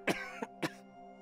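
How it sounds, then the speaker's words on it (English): A character coughs in Genshin Impact, three short harsh coughs in quick succession, close and fairly loud, with a low steady music tone underneath. "He just coughed."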